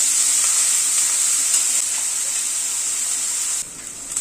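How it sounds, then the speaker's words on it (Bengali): Onion frying lightly in a pan over a medium gas flame, a steady close hiss of sizzling oil that runs unbroken and drops slightly in level near the end. "পেঁয়াজটাকে হালকা করে ভেজে নেব।"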